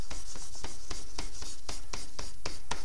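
Graphite pencil strokes on paper while drawing, a close, rapid run of dry scratchy rubs in a quick back-and-forth rhythm, with no speech.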